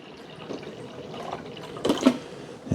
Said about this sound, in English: It's got a nice big opening to pour the water in the back